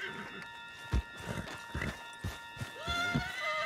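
Horse sounds in Red Dead Redemption 2: hoof clip-clops and footsteps under steady game ambience, with a whinny-like tonal call near the end, moderately loud and close.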